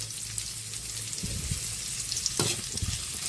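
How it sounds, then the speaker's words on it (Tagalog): Onion added to garlic already sautéing in a pan for sinigang, a loud close sizzle with scraping stirs of a utensil against the pan, no one talking. "Isunod na natin yung ating onion, sibuyas"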